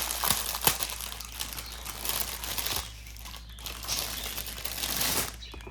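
A small diamond painting kit box being opened by hand, with crisp crinkling and rustling of packaging in bursts spread across the clip, close and fairly quiet, no talking.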